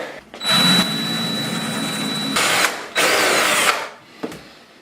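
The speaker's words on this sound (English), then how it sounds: "We're supposed to drill 1/4-inch pilot holes." A power drill whines loudly in two long bursts drilling quarter-inch pilot holes for a shower grab bar, separated by a brief pause, up close, with a short clunk at the end.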